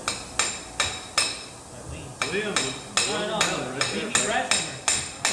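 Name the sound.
hammer striking metal on a Toyota differential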